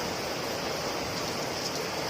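Heavy rain pouring down in a dense, steady hiss with no gaps, evenly loud and broadband throughout, with no voices or other sounds.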